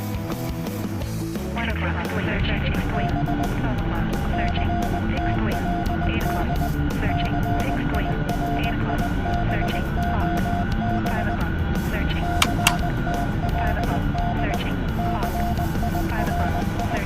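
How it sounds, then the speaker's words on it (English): A Chinook helicopter flies in a combat simulation game, a continuous droning rotor and engine hum with a steady whine on top, running for the whole stretch with a couple of brief clicks midway. "So one more Chinook flight tonight."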